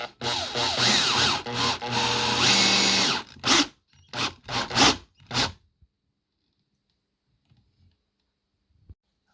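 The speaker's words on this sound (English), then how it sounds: "using 16 I will drill the main hole." A power drill whines loudly while drilling a 16 mm hole through a boat panel for a few seconds, then several short bursts of drilling follow before it falls silent.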